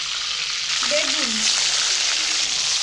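Eggplant frying in hot oil over a high gas flame, a steady close sizzle filling the whole stretch, with a faint brief stir or scrape in the middle.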